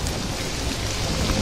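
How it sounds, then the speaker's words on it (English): Steady, dense rain pours down in a continuous loud wash of hiss and patter, with a low rumbling undertone, no voices present. "It's just the rain, Doc."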